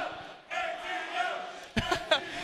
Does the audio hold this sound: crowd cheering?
yes